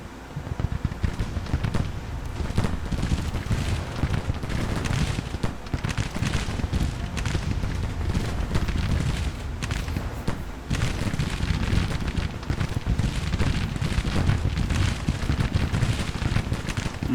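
Massed Civil War musket fire from troops firing at will in Grand Tactician, a continuous rolling crackle of overlapping shots and booms, loud and unbroken apart from a few brief dips.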